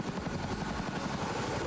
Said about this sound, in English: we had to have a Chinook helicopter airlift it into the park